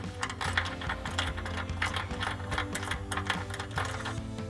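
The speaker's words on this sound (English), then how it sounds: "we can tighten this down with our 13mm socket" Quick ratcheting clicks from a 13mm socket ratchet tightening a bolt with lock and flat washers into the upper mount of a RedRock rock rail on a Jeep Wrangler JL, steady and close, with no talk.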